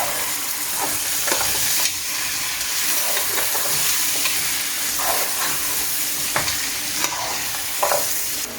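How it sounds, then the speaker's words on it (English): Boiled water poured into a cooking pot of lamb and lentils for a dhansak, bringing a loud hissing sizzle and bubbling with scattered clinks and stirring knocks, continuous and close. "Now I'm going to add some boiled water."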